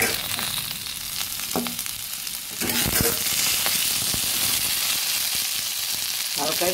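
Sweet potato frying in a pan: a steady sizzle with occasional stirring scrapes, close and clear.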